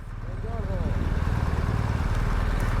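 An old Yamaha XT600 motorcycle engine running steadily close by, a loud low throbbing rumble throughout, with a brief voice over it early on.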